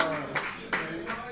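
A few hands clap three times at an even, unhurried pace, each clap crisp but fairly quiet, while a voice talks over them.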